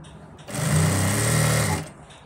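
An electric sewing machine stitches ladies' pants in a single near, steady run of fast whirring that lasts about a second and a half, with quiet before and after.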